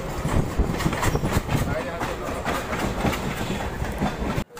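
A train rolls into Ranaghat station with steady rumbling and rhythmic clickety-clack of wheels over rail joints, close and continuous, ending with a sudden drop near the end.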